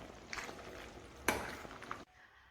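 Fettuccine pasta stirred in a pan with a soft sizzle and a few faint scraping, clinking touches over about two seconds, then quiet.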